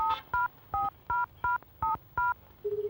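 Telephone keypad tones sound in a steady run, about seven short dual-tone beeps in an even rhythm, then a lower ringing tone starts, clear and close with no talking.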